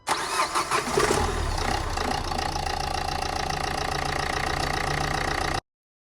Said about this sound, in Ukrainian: Двигун був повністю холодний і завівся швидше